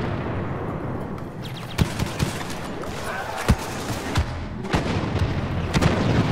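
Repeated grenade blasts and gunfire in a Star Wars Battlefront battle, sharp cracks and booms landing irregularly over a dense, loud roar of combat noise, with no clear voices.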